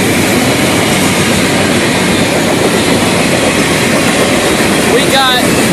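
An FEC freight train of gondolas, covered hoppers and boxcars rolls past close by, a loud, continuous rumble and clatter of wheels with a brief squeal near the end.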